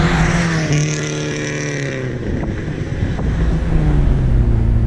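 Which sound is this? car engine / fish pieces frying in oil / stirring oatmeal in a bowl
car engine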